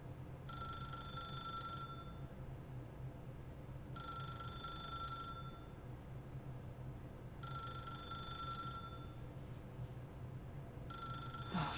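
A telephone rings in the video game The Stanley Parable, repeating in evenly spaced bursts of bright electronic trilling with short pauses between them, heard alone over a low background hum.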